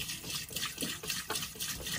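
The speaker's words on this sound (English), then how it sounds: "Okay, so we just pour the water in." Water poured by hand into a top loader washing machine in a caravan, a steady close splashing and gurgling pour running for the full two seconds.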